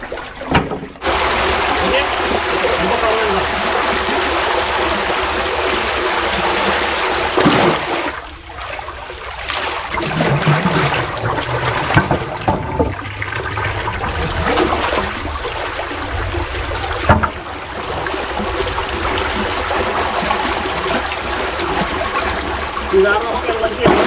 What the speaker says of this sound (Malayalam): ഇപ്പം നല്ലോണം വെള്ളം അകത്തേക്ക് കയറി തുടങ്ങി പുഴയിൽ നിന്ന്.